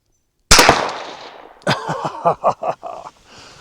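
A single sharp crack from a .17 HMR Ruger Precision Rifle fired at a ground squirrel outdoors, loud and close, with a decaying echo, followed by a short burst of talking.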